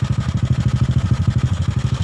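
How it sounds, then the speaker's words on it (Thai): A 125cc motorcycle with a semi-open modified exhaust idles close by with a loud, deep, lumpy exhaust burble, pulsing in a steady rapid rhythm. "เดินเบาจะนุ่มๆหน่อยๆแต่ว่าเสียงเครื่องดังนะผม"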